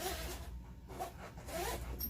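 Zipper window on a Humvee soft door is zipped in several quick rasping strokes, close and distinct with no talking.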